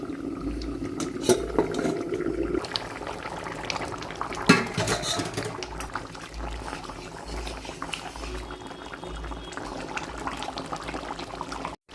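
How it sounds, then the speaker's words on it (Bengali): Chicken simmers in water in a covered pot, a continuous bubbling boil close up with occasional clinks of metal utensils against the pot, and no one speaking. "এবার আবার চাপা দেবো, ফুটতে টাইম দেবো, সেদ্ধ হবে চিকেনটা।"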